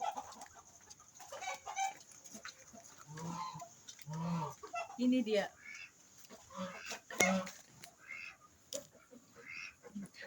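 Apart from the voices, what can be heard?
chickens, Muscovy ducks and geese in one pen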